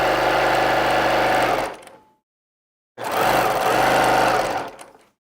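A sewing machine stitches a jelly roll quilt in two loud, close bursts of rapid mechanical whirring, each about two seconds long, separated by a short silent pause.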